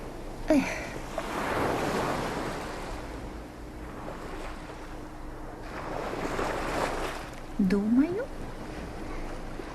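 Cartoon ocean waves surge and wash onto an island shore in soft, repeating swells, with brief voices, gull-like cries and wind noise between them.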